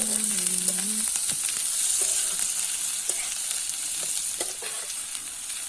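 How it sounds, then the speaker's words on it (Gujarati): Green onions roast in hot oil with mustard and cumin seeds for a chana leaf bhaji, giving a steady, bright sizzle close by, with occasional soft clinks and scrapes of stirring. "રાઈ જીરું અને અંદર જ આપણે લીલી ડુંગળીને એકદમ મસ્ત શેકી લઈશું."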